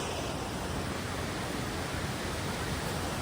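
Tarabu waterfall in Andhra Pradesh, a high cascade, roars as a dense, steady wash of falling water, loud and unbroken with no other sounds.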